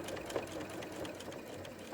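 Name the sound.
sewing machine sewing a back stitch on a bustier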